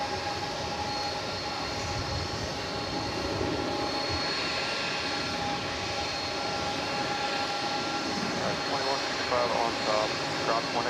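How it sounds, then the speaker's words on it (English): An Airbus A300 jet airliner arriving from Orlando rolls out after landing at DFW Airport at night, a steady loud engine roar with a whining tone, with voices talking over it. "Here comes that A300 that landed from Orlando."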